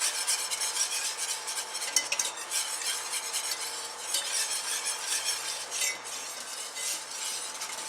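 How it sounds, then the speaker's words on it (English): A stew base, a roux heading from caramel toward chocolate brown, being whisked steadily in a pot, giving a continuous close scraping and stirring with faint clinks and a light sizzle underneath. "we're going to keep whisking and going until we get to that color we want"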